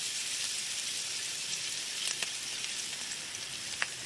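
Chopped garlic sizzling in refined oil in a pan, a steady, soft, close frying hiss with a few faint crackles and no talk.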